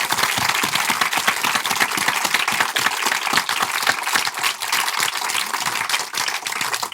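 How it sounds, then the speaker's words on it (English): Live podcast audience giving sustained applause at a 100th-episode special event, a dense, even roar of many hands clapping for several seconds with no talking. "I think we should indeed give George a proper round of applause"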